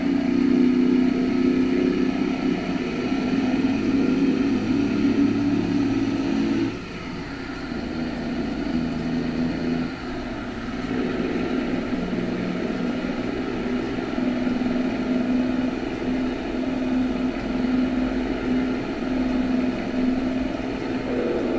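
Several trucks roll past with engines running steadily, a loud continuous rumble and drone that shifts slightly as vehicles pass, with no talking.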